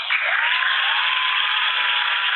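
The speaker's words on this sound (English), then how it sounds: "my applause app has 25 options, so I think we should give ourselves another round of applause" Canned applause sound effect played from an applause app during a virtual meeting, a steady even wash of clapping that is band-limited and thin, as if through a small speaker, lasting a couple of seconds without pause.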